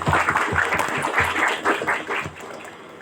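Applause from an audience of Pramuka Pandega scouts during a talk, bursts of close, fairly loud hand clapping with voices mixed in, tapering off toward the end.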